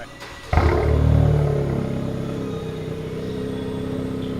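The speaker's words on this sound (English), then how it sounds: "The exhaust is now fully set up, and I think it's about time we set you guys up over here and get a little cold start" A lowered Honda Civic with a newly fitted exhaust cold-starts with a sudden loud crank and roar, then settles into a steady, throaty high idle close by.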